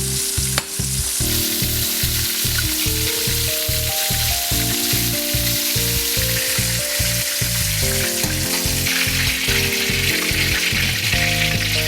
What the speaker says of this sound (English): Add the beef that's in the cornstarch, but don't overcrowd the pan. Cook it only for about a minute on one side